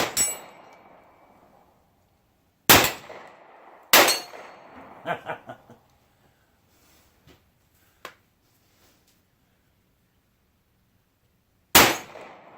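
Rifle shots from a TNW ASR carbine striking a steel target, heard as a few loud, widely spaced cracks, each with a metallic ring and decaying echo, separated by quiet gaps.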